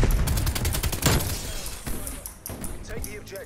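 Rapid bursts of RPD light machine gun fire in Call of Duty Cold War, a dense rattling volley up front that thins into scattered shots, with game effects and a voice under it.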